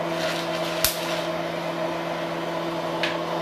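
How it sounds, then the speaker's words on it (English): Coffee beans roasting in a popcorn popper, a steady humming machine drone with two distinct sharp pops, one near the start and one near the end, and no talking. "those louder pops are getting to a darker roast"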